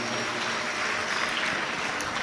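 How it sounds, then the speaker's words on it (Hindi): A large crowd at a live Hindu katha gathering of Pandit Pradeep Mishra of Sehore claps loudly to welcome the host family, a dense, steady wash of applause filling the whole stretch without letup. "एक बार जोरदार ताली बजाकर यजमान परिवार का स्वागत वंदन अभिनंदन"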